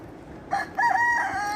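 A rooster crows in a flower garden, one drawn-out cock-a-doodle-doo rising clearly over soft outdoor background noise, fairly close and loud.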